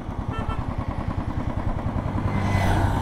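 A motorcycle engine putters and rises in pitch as the bike rides along a muddy, waterlogged road by roadworks, a steady rhythmic throb growing louder toward the end.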